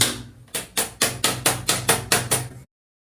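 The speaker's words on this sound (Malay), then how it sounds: "Dari bateri ni, bentuk dia ni, kita buat tukul lah." A battery pack used as a makeshift hammer taps a screw into a bathroom wall for a shelf rack: about nine sharp, evenly spaced knocks, close and loud, with no talking.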